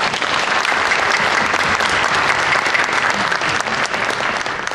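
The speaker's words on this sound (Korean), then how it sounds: "여러분도 같은 마음으로 박수 한번 다시 보내주십시오." An audience at a book talk show breaks into sustained, dense applause, loud and continuous for several seconds.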